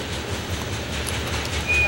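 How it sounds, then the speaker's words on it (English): A CSX freight train of phosphate or grain cars rolls past with a steady, close rumble and rushing wheel noise, a brief high squeal near the end. "Now I believe that was a phosphate train headed south."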